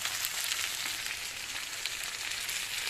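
Bonito fish fry in a pan of hot oil with a steady, dense crackling sizzle that holds at an even level throughout, close and uninterrupted.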